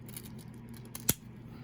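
Scissors snip the edge of an altered playing card for a journal, a single crisp close cut against a quiet background, with no talking.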